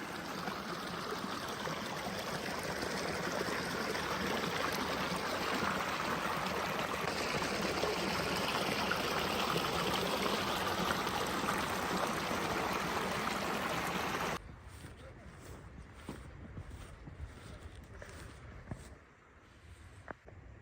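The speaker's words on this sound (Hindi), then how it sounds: "यहाँ से जो यख ठंडा पानी आ रहा है वो ग्लेशियर के ऊपर, ग्लेशियर की तरफ से आ रही है।" Ice-cold glacier meltwater stream flowing in the mountains of Gilgit-Baltistan, a steady, loud rushing and gurgling close by that drops to a softer trickle near the end, with no talking.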